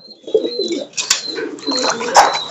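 Pigeons cooing close by in a loft with young squabs, soft repeated throaty coos mixed with faint higher chirps and a couple of sharp clicks.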